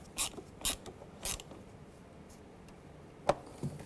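Bolts being snugged down on a 2005–10 Volkswagen Jetta engine after a valve cover replacement: three quick ratcheting bursts close by, then a sharp click and a final short tick, with quiet pauses between.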